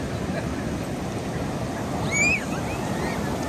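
Pacific Ocean surf on the beach at Carmel-by-the-Sea, California, roars steadily and close with wind buffeting the microphone, one wave swelling slightly louder partway through, a faint bird call above it.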